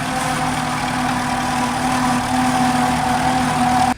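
A 1917 Fordson Model F tractor with a 4-cylinder engine of about 20 horsepower runs steadily and loud, its continuous droning hum holding at a constant idle pace, close by and without any voices.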